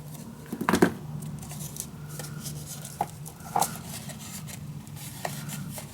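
Scissors snipping open craft material for a desk storage box: a short cluster of crisp cuts near the start, then a couple of faint isolated snips over a quiet room hum.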